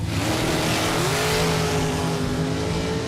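A drag race car sits loud and close at the starting line at the Winter Nationals, its engine holding a steady, dense roar with a rising tone midway, continuous for the whole stretch with no talk.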